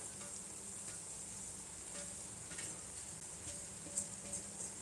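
Small chapati pieces are stirred with tomato in a pan, giving a soft, quiet sizzle with faint scraping clicks from the stirring.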